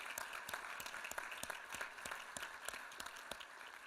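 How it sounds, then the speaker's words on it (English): Audience applause after a talk at a sustainability jobs panel, steady dense clapping from a crowd with a few sharper individual claps standing out, moderately distant and even throughout. "Can we give him another round of applause?"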